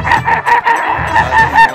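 A mimicry artist imitates a hen clucking, voicing a rapid string of short, nasal, throaty clucks in an uneven rhythm. The calls are close and loud, with nothing else heard.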